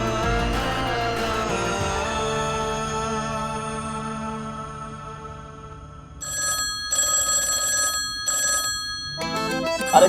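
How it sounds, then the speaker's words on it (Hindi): An old-style telephone bell rings in bursts indoors, with a loud opening ring and then tonal musical sound beneath, followed later by repeated ringing bursts separated by short gaps. "टेलीफोन बज रहा है, फोन उठाओ।"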